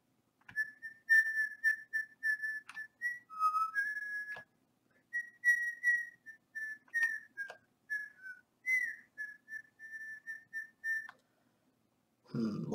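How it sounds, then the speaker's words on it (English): Someone whistles a tune alone, close to a microphone, in steady phrases broken by brief pauses over about twelve seconds. "Whistling probably doesn't sound very good in the mic."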